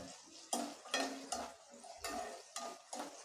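Shallots, ginger and garlic sautéing in a pan for a country chicken curry, rhythmic scraping stirs about every half second over a soft sizzle, close but fairly quiet.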